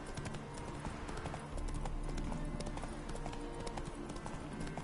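Horse hooves clip-clopping at a steady gallop on a road as Roach is ridden in the video game Witcher 3, a continuous rhythmic beat with no talking over it.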